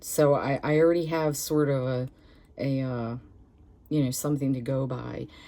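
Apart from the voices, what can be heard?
None of the usual background noises is heard.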